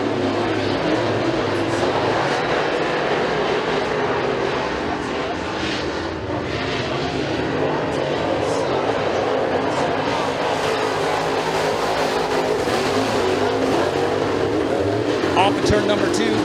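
Race cars roar around the dirt track turns during heat races at McKean County Raceway, a continuous loud engine drone with a public-address announcer talking over it.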